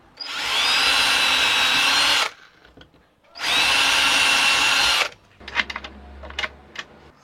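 A power drill bores holes into wood for fitting latches, running in two long, loud, steady bursts separated by a pause, followed by clicks and knocks of handling.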